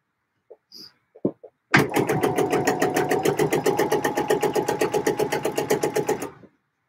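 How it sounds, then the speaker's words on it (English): A sewing machine stitches over the seams of a coat: a few taps and clicks, then a fast, even run of mechanical thuds for about four and a half seconds before it stops abruptly. "Extra careful when I'm sewing over the seams"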